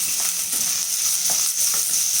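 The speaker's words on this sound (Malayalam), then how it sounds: "നമുക്ക് അരിഞ്ഞു വെച്ചിരിക്കുന്ന ഉള്ളി ഇട്ട് കൊടുക്കാം" Chopped onion frying in a pan for a green peas pulao, a steady close sizzle with faint stirring scrapes and no talk.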